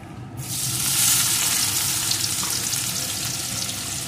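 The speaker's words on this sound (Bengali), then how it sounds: "পেঁয়াজ কুচিটাকে একটু ভেজে নেব" Chopped onion sizzles and fries steadily in hot oil with whole cumin and a dried red chilli, a continuous close crackle that jumps up in loudness just after the onion goes in, with no talking.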